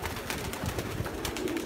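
Young black crested pigeon cooing softly in a loft nest area, low repeated coos over faint background noise, no talk.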